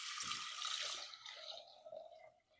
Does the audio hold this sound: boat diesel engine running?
no